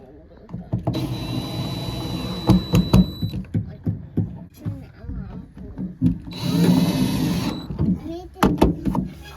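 Power screwdriver driving screws into a hatch panel on a Mira J car, heard as short bursts of whirring, two longer runs among clicks and handling, with voices talking throughout.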